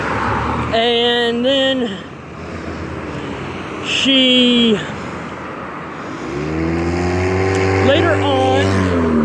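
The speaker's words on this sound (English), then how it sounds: "boy, the cars are noisy today" Noisy cars pass along a road, their engines droning and swelling as they go by, while a person talks over the traffic.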